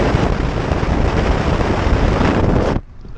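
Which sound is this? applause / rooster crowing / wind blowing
wind blowing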